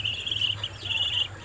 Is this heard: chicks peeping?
yes